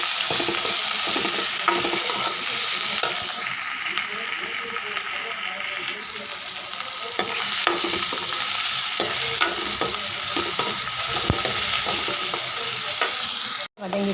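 Tomato and dal sautéing in a pan, a loud continuous sizzle with frequent stirring scrapes throughout, close up and without talk.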